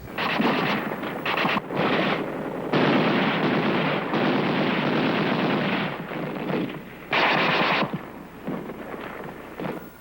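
Infantry rifle and machine-gun fire from foot soldiers and a Marine Brigade on a Korean War ridge line, heavy sustained bursts rolling almost continuously, loud and dense with brief lulls between volleys, no voices.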